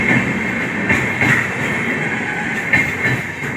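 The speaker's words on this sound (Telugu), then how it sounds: "సంబల్పూర్ వెళ్ళే సూపర్ ఫాస్ట్ వెళ్ళిందండి నాందేడ్ నుంచి" A Sambalpur Superfast train pulls away from Nanded station, its wheels clacking rhythmically over the rail joints with a loud, steady rumble and a faint metallic squeal, and no voices over it.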